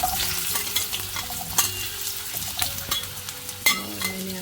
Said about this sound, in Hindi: तो मैं सबसे पहले अरबी को इसमें फ्राई करूंगी